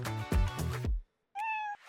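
A house cat gives a single clear meow near the end, close and fairly loud, after a stretch of other unrelated sound and a brief silence.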